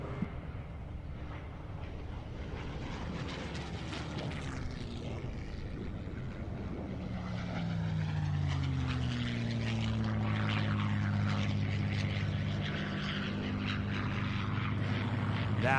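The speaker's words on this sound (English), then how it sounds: "That was the Warbird Heritage Foundation's P-51 Mustang" Propeller-driven P-51 Mustang warbird performing a four-point roll at the SUN 'n FUN 2021 airshow, a droning piston engine that swells louder with shifting pitch as it passes, with crowd noise underneath.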